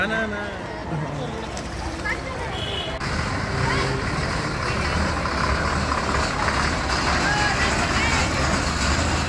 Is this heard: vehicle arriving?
yes